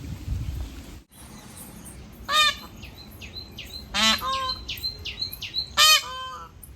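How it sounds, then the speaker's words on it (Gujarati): A peahen gives several loud, sharp honking calls close by, spaced irregularly over a quiet background with faint chirps between them. "કેમ બોલે છે ઢેલ ઢેલ કેમ બોલે"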